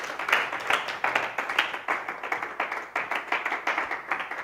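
A church congregation claps in acclaim of the Lord, a dense, rhythmic run of handclaps from many people, steady and fairly close, with no talking.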